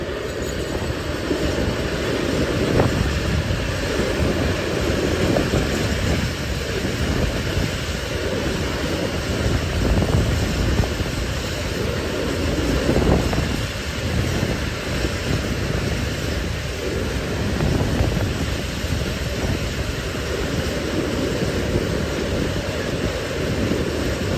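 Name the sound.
CD Cargo locomotive 182123 hauling empty petroleum freight train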